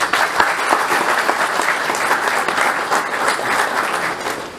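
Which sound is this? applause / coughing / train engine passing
applause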